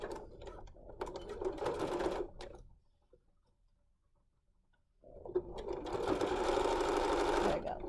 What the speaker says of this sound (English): I'm going to machine stitch, presser foot away, backtracking at the beginning and end